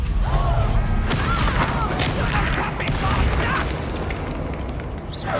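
Bombarda spell blasts in the Hogwarts Legacy video game, booming explosive bursts layered with whooshing magical effects during a busy duel, loud and continuous throughout.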